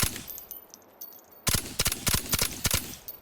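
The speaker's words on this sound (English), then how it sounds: "I like the suppressed sound effects." Muffled suppressed video game gunshots crack in quick bursts after a quieter stretch, each pop short and sharp with a metallic clack, close and fairly loud.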